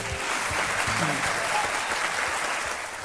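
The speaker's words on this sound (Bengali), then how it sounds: "হাততালি এইভাবেই চলতে থাকুক।" A TV show studio audience applauds loudly and continuously, a dense sustained clapping that stays steady throughout, with a voice faintly audible underneath.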